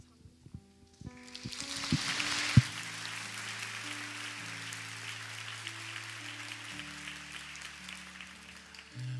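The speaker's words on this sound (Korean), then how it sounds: "다시 한번 우리 축복의 박수를 보내주시겠습니다." A church congregation applauds at a summer outreach closing ceremony. The clapping swells quickly and holds steady, soft and somewhat distant, over a low sustained musical tone.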